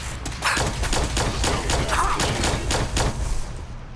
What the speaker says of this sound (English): I'm hearing turret.